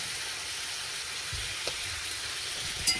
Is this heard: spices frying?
yes